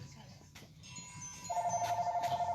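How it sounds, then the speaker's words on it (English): A telephone rings indoors with a steady pulsing electronic tone, moderately loud, starting partway through beneath a person speaking. "Deanna, do you mind getting the phone?"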